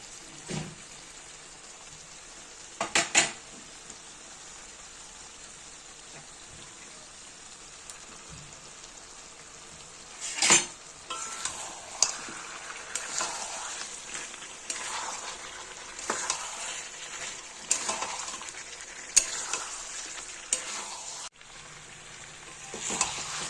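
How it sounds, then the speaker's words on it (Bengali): Goat meat and fried potatoes sautéed in oil in a pan, a steady crackling fry like light rain with occasional louder scraping stirs and clatters, close and without talk. "মাংসটাকে ভালো করে কষিয়ে নেব। দিয়ে দেবো ভেজে রাখা মাংসের আলুগুলো।"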